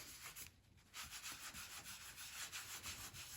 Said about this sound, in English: Then you just get a tissue and rub over the top